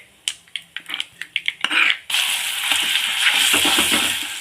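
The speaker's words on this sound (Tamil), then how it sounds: "இப்போ நல்லா இதை எண்ணெயில் வதக்கணுங்க அதுதான் வேலை" Ground spice paste sautéing in hot oil in a pan for a Tamil medicinal curry: a run of sharp clicks and taps, then a loud, steady sizzle that continues to the end.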